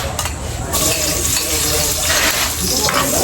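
Onions sizzle and fry in a pan as the base for an adobo, a steady loud crackle with stirring scrapes, and a voice briefly talks over it.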